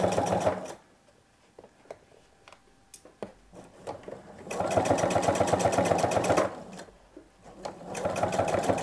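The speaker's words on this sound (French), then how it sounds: "je pique sur ma ligne." Sewing machine stitching a sherpa vest: a few brief stitch starts, then a fast sustained run and another burst near the end, close-up with quiet pauses between.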